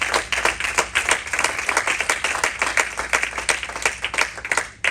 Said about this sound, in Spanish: ¿Cuántos dan un aplauso a Jesucristo, el Hijo de Dios?